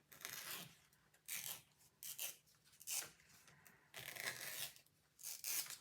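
A craft ribbon is rubbed between fingers to soften it, giving soft, dry scratchy swishes in short repeated bursts, close up and fairly quiet with no talking.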